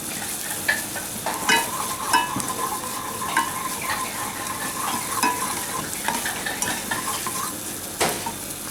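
Sauce boils rapidly and reduces in a pan over a full gas flame, a steady sizzling bubble with a spoon stirring and scraping against the pan at irregular intervals.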